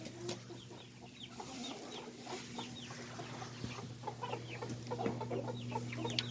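Silkie chickens in black and white cluck in an open pen, many short soft calls scattered near and far over a steady low hum, with no one talking.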